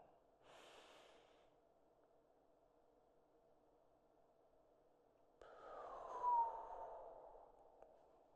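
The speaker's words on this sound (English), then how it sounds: "Thank you for taking those breaths with me" Slow, deep breaths during a guided calming breathing exercise: a soft inhale early on, a quiet pause, then a longer, louder breath drawn in and let out close to the mic, with no talking.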